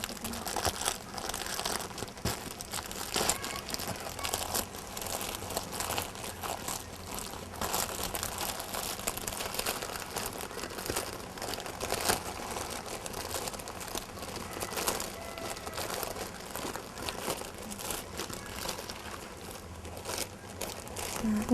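A bag sewn from plastic waste is turned inside out by hand, producing continuous close crinkling and rustling of plastic with irregular louder crackles.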